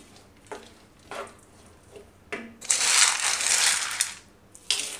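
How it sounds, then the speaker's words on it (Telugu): Peeled peanuts are stirred in a pan, making dry rattling scrapes in short bursts that build into a longer, louder stretch of rustling clatter, close and without talk. "పొట్టు తీసేసి పల్లీలు చక్కగా ఇందులోకి వేసుకుంటూ తిప్పుకోవాలి"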